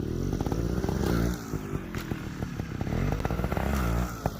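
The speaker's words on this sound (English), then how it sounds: "we're going to intentionally rev the engine before a little bit and then let out the clutch" A motorcycle engine is revved on purpose ahead of letting out the clutch during a wheelie warm-up drill, giving a steady, loud, close rumble with a brief rise in revs and then a rougher, choppier idle.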